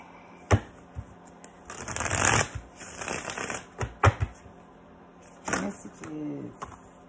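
Tarot cards are shuffled by hand in several bursts of riffling and slapping, close and crisp, with brief pauses between.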